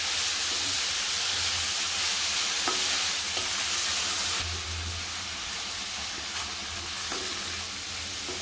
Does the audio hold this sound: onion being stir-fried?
yes